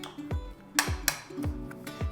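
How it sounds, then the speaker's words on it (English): A spoon stirs cinnamon and sugar together in a bowl, producing a rhythmic series of about six sharp clinks and scrapes against the dish, close and clear with no talking. "I'm just gonna kind of break up that sugar and stir this together."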